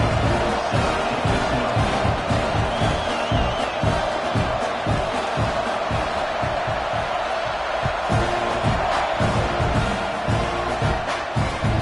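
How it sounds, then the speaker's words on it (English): Stadium crowd at an American football game buzzing steadily after a score, a dense continuous roar of voices with scattered shouts and cheers throughout, loud and unbroken. "this crowd is buzzing after that last score."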